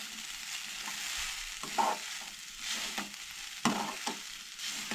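Stuffed brinjal (baingan) masala for a spicy Goan curry frying in a pan, with a steady hiss and a few scraping stir strokes.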